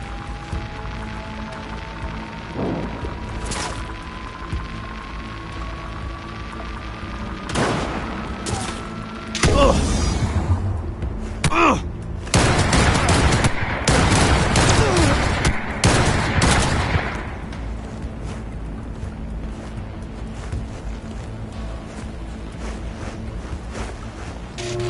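Gunfire in the video game Cyberpunk 2077, heavy bursts and booms erupting after a quiet stretch with a rising tone, then fading back to a low ambient hum; voices shout in places.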